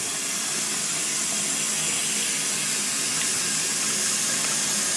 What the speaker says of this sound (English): fill up with water